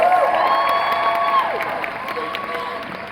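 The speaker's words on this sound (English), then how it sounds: "Let's cheer for Ben." An audience at a Comic Con Midlands convention panel in Birmingham cheers and applauds, a sustained wash of clapping with whoops and shouts, fairly loud and gradually easing off, with an amplified voice speaking over it.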